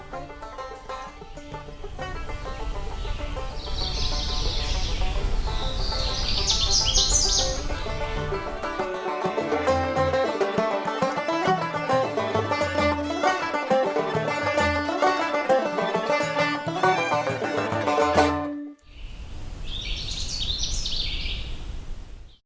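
A Canada warbler sings in Allegheny National Forest in summer, with bright bursts of chirpy song over a steady layer of other birdsong and forest ambience.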